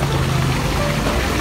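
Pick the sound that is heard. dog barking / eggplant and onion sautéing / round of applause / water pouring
water pouring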